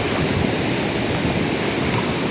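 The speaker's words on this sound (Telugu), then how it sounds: "అయినా సముద్రం అలలు. చాలా ఒక అందమైన దృశ్యాన్ని మనల్ని ఆకర్షిస్తున్నాయి సూర్యలంక బీచ్లో." Sea waves at Suryalanka beach near Bapatla make a loud, unbroken roar of surf and rushing water, with some wind, and no voices.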